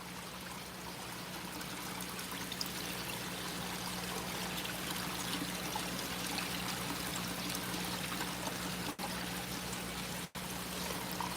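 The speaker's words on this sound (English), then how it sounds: "You can pour water on them all day." Water is poured steadily onto floating water lettuce leaves in a goldfish greenhouse, a quiet continuous trickling splash under a low steady hum, broken by two brief clicks late on.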